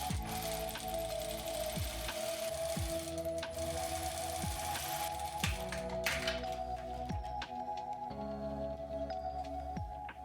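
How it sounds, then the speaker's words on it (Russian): A sewing machine topstitching the hem of pajamas, running steadily for about ten seconds with a dense mechanical whir, periodic low thumps and a few brief pauses in the stitching. "начнем отделочную строчку, тем самым обработав низ пижамы"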